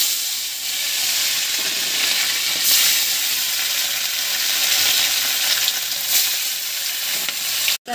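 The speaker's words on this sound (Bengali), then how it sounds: "এবার একে একে পার্শে মাছ দিয়ে আমি ভেজে নেব।" Parshe fish frying in hot oil, a steady loud sizzle with crackling and hiss that runs on without pause, close up, no voices.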